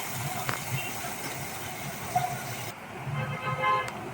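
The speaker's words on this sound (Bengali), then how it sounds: "আবারও আমি একই তেলে আরও দুটো মাছ আমি ভেজে নিচ্ছি।" Two fish fry in hot oil reused from an earlier batch for a mustard-poppy bata fish curry, a soft, steady sizzling hiss with a few faint clinks and no talking.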